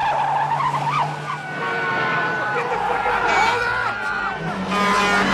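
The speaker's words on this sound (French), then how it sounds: "une nouvelle très grande poursuite en voiture" Tires squeal and skid over a roaring car engine, with a busy, dense mix of vehicle noise throughout.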